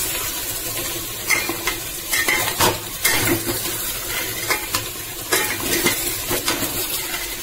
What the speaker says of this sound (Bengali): মাঝে মাঝে চালিয়ে দেবেন যেন নিচে তলা না লাগে